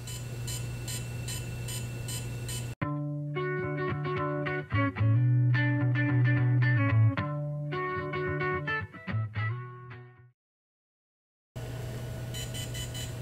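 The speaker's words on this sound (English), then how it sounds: "you can hear it start to beep" A DJI Phantom 3 drone gimbal beeps during a firmware update, electronic tones in a rhythmic, melodic sequence of short bleeps, clear and close, then silence before a hum returns.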